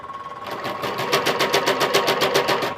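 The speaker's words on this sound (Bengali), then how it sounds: "এটা হলো একটা সোয়েটার মেশিন" Sweater knitting machine running steadily with a fast, even mechanical rhythm of repeated clacks, loud and close, with no talk.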